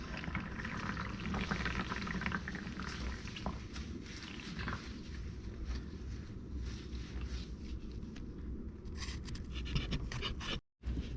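Engine oil drains from the oil pan of a 1976 Corvette C3, a steady, quiet pouring trickle with faint clinks and rustles, no talk, ending in a brief dropout.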